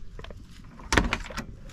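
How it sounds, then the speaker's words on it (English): A 1965 Ford Mustang Fastback door unlatching and thudding, a few mechanical clicks and a solid knock close by, brief and without voices. "As far as the doors go, they open and close great."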